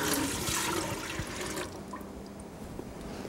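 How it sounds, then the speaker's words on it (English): Mayhaw juice, sweetened with sugar for jelly, pours into a cooking pot with a loud splashing gush that tapers to a quieter trickle and drips. "And now we're going to pour our juice into"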